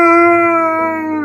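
A pet dog named Neo answers a speak command with a sustained, loud, tonal howl-like bark that slowly falls in pitch, close to the listener and alone.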